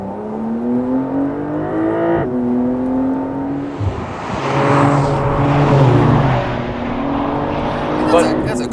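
A Porsche 911 Dakar runs along a bumpy canyon road, its engine note rising and falling through gear changes as a steady cabin drone, with people talking over it.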